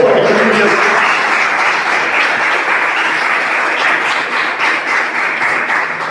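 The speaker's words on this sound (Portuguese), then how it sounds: "Palmas para Jesus que está aqui no Senhor" A congregation claps at a Portuguese-language church service. The applause starts full and close, then thins into looser, individual claps near the end, with a brief voice at the start.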